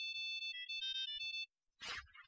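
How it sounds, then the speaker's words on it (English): A cell phone's special ringtone plays a bright electronic melody of several tones for about a second and a half, then stops, followed by a short burst of noisy sound. "Is that Eve's cell phone"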